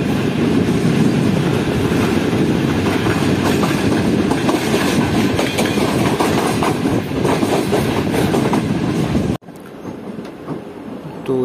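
The Karachi Express train rumbles loudly and steadily along the tracks at speed, wheels clattering in a fast rhythm, the roar dropping away abruptly near the end.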